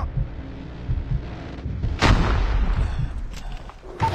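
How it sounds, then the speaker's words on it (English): Heavy gunfire destroys a sentry gun in a multiplayer shooter on the Shipment map, with a sharp loud blast mid-clip and rumbling shots around it. "Hostiles have destroyed your sentry gun."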